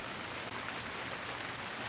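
Steady rain falls in the video game Gemini Rue, a soft continuous hiss of drops that holds evenly throughout without any other sound.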